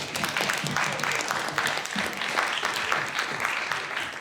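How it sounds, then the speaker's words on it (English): Steady, dense applause from an audience at a Florida State House candidate debate hosted by a university political discourse club, giving the candidates a round of applause. It is loud and sustained for the whole stretch. "Please give a big round of applause to our candidates."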